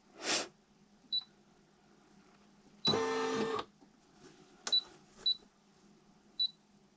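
Embroidery machine stitching out an initial placement frame on a towel: a few short mechanical whirs and clicks with a sustained burst of steady buzzing stitching near the middle, plus brief beeps, with no talk.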